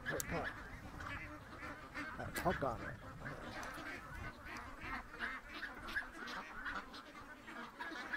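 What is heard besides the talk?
ducks quacking at feeding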